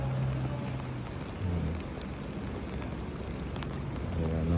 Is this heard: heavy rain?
yes